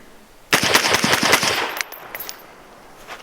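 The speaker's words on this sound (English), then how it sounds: "This is a flow-through can, so it'll be a little bit louder." A rapid burst of about a dozen sharp, loud shots from a 5.56 rifle with an RR Weapons Ventus flow-through suppressor, fired close by, each a crack with little boom, followed by a short fading echo and quiet.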